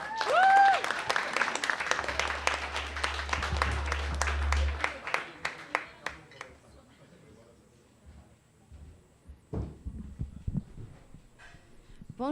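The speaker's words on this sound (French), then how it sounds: "Merci de l'accueillir avec une belle main d'applaudissements." An audience bursts into lively applause to welcome a speaker at a talk on preindustrial Quebec demographics. The clapping runs for about five seconds, thins out, and a single voice then begins speaking.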